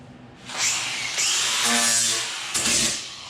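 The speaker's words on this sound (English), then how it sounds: "I'm going to just hit it with the grinder real quick, take off the rough edges and the burrs" A grinder smooths the rough, burred edges of a CDX plywood tool-storage hanger, giving a steady, close, loud whine that rises after a short start and holds for about three seconds with slight dips.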